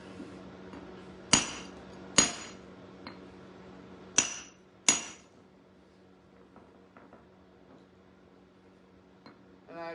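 Sharp, ringing cracks of a hammer-like tool striking a geode, four loud impacts in the first five seconds followed by faint small clinks and a low steady hum.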